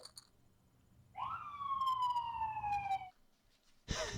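A police siren wails loudly in one long falling tone, then cuts off, followed by a burst of noise at the end.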